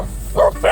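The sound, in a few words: dog barking on a walk to Mount Balagbag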